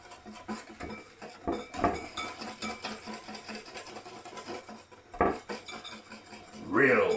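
Batter for fish and chips being mixed in a bowl, close clinking and scraping of utensil against the bowl in irregular bursts, no talking.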